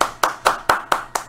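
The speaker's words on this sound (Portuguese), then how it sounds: "Uma salva de palmas pro Danilo." A single person claps six times, evenly spaced, crisp and close, during an online live interview.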